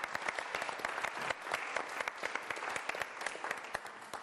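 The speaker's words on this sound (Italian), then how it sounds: "facciamogli un applauso." Studio audience at an Italian television talk show breaks into steady, even applause, a dense wash of many hands clapping at moderate distance with no voices over it.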